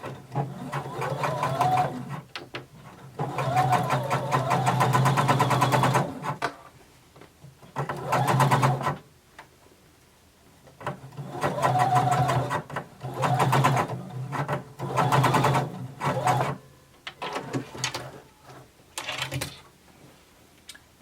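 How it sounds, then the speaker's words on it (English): A sewing machine runs a basting stitch along a seam allowance in loud bursts of rapid needle clatter, separated by short quiet pauses, with no voices. "we're going to do the same thing, just a basting stitch to secure this in place."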